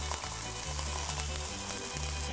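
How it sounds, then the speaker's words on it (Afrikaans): Boerewors sausage seasoned with roasted coriander browns in a frying pan, a steady close sizzle and crackle without a break, no voices over it. "Eerstens braai ons die ouma's boerewors bruin."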